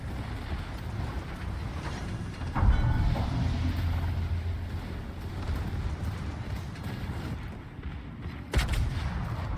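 Warship guns fire in the naval video game World of Warships, heavy booms landing over a constant engine-like rumble, with two louder blasts standing out, one early and one near the end.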